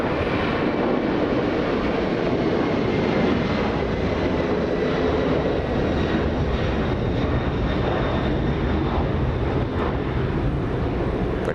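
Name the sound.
Boeing 747 cargo plane with four CF6 engines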